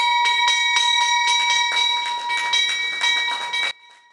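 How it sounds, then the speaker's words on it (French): Bells ring out repeatedly in quick succession to mark the opening of a West African stock exchange, bright and loud, then cut off abruptly near the end. "La visite a débuté par ce retentissement de cloches pour marquer l'ouverture des marchés boursiers"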